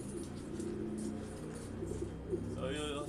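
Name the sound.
racing pigeon arriving and cooing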